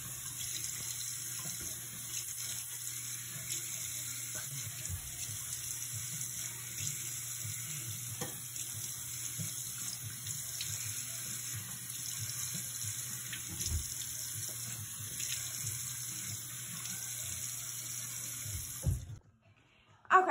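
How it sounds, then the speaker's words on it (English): A tap runs steadily while a face is washed at a sink, producing a faint, even hiss with soft splashes, then stops abruptly near the end. "Colin is washing his face."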